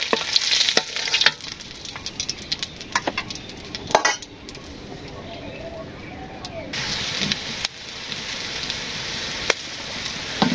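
Onions frying in a pan, a steady sizzle with scraping and clinks as a utensil stirs them, close and loud, with quieter stretches between the stirs.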